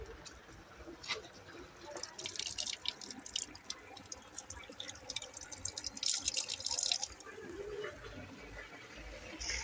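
Water pouring for drinking, heard as a trickling, splashing stream with drips, moderately close and fairly quiet, growing busier midway, with a faint bird in the background.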